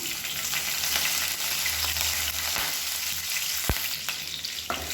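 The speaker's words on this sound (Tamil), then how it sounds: "எல்லாமே நல்லா பொரிய ஆரம்பிக்குது." Mustard seeds, cumin, broken dried red chilies and curry leaves spluttering in hot oil, a dense, loud, continuous crackling sizzle with a few sharp pops and clinks, close by and without talk.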